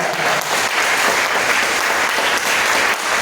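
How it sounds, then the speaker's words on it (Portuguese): A church congregation claps in a loud, sustained burst of applause filling the room, with dense hand claps running steadily throughout and no speech heard. "Agora eu convido a igreja a dar a mais forte salva de palmas ao Senhor Jesus"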